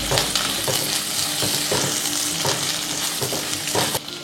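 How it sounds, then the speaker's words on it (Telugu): Chopped onion and curry leaves frying in a pan, a steady loud sizzle broken by repeated scraping stirs, with no talk. "ఉల్లిపాయలు 1 నిమిషం వేగిన తర్వాత"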